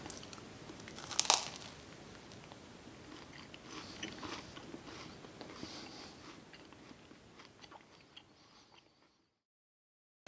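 Crunchy crispy treats made with Pop Rocks are bitten and chewed up close, opening with a sharp crunch, then a few seconds of softer crackling and munching that fades to silence.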